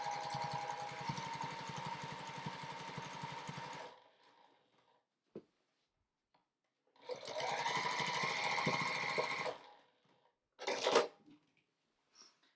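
A sewing machine stitching quilt layers runs in two steady bursts of rapid mechanical chatter separated by a pause, with a brief clunk and a short final burst of stitching, close and fairly quiet.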